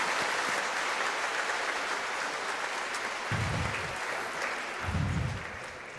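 A church congregation at a Sunday Mass claps loudly in a dense, steady burst lasting several seconds, with low thumps and murmuring underneath as the clapping fades slightly.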